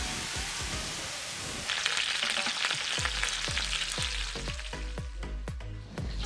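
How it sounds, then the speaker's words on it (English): Chicken pan-frying in a hot pan gives off a loud, continuous sizzle, with sharp crackles and pops scattered throughout and a brief stirring or shifting sound partway through. No one speaks. "So now the chicken, we've finished pan frying it."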